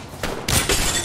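An Apex Legends shield breaks with a sharp glassy shatter, preceded by a smaller crack, short and loud up close.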